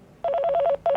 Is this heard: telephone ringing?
yes